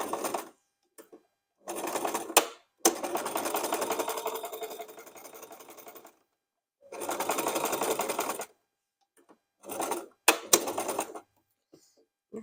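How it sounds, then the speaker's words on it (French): Domestic sewing machine stitching fabric for an Easter basket scrunchie project, running in several bursts of steady mechanical whirring separated by silent pauses, close and loud with no talk. "je continue à coudre jusqu'en haut et j'oublie pas mon point d'arrêt"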